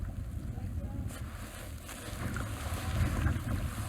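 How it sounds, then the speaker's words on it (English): Strong wind buffeting the microphone out on a lake from a kayak, a constant low rumble with faint water sounds underneath and no talking. "It's very windy today."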